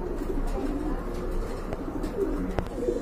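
Large pigeons at a pigeon sale cooing softly in low, rolling bursts amid a constant background hum, with a faint sharp click near the end.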